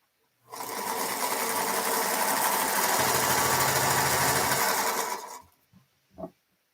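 A sewing machine runs in one continuous burst of about five seconds, loud and close with a steady whirring drone, then stops, followed by a brief knock.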